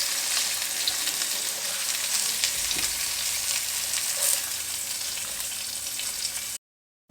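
Chicken pieces fry in a hot pan with a steady, loud sizzle and crackle and occasional stirring, close up with no talking, ending abruptly in silence.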